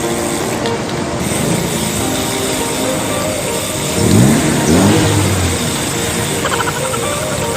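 Cars rolling past on a busy road in Tagaytay, a steady traffic hum with one vehicle swelling louder as it goes by close, alone without talk.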